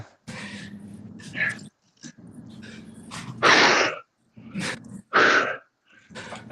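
An old dog makes a series of short sneezing snorts and breathy huffs in separate bursts, close by, with quiet gaps between them.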